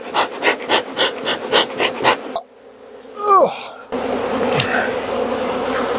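Honey bees, back from almond pollination, swarm and buzz on the bottom of a hive box, a close, dense droning hum with pulsing swells that shifts in tone and level across the stretch.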